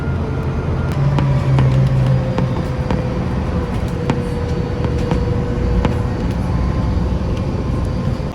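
A public transit bus rides toward Disney Springs in Florida, its engine and road noise forming a loud, continuous rumble inside the cabin with small rattles and clicks scattered throughout.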